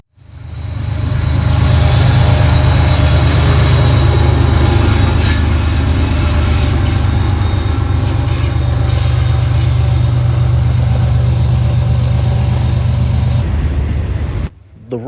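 A long CSX freight train of boxcars and autoracks, with a mid-train DPU locomotive working hard, rolls past close by in Marion, Ohio, a loud steady roar of wheels and rumbling cars that holds for the whole stretch before cutting off.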